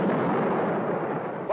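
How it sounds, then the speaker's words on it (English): A spaceship fires a missile at a wall, a loud, dense, rumbling blast sustained for the whole moment, dominating everything with no voices over it. "Fire missiles, concentrated direction. See if we can cut through that wall."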